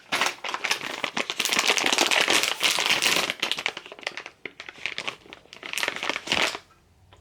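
A makeup wipes package is crinkled and handled close up for several seconds, producing dense, bright plastic crackling that pauses briefly near the end, with no talking.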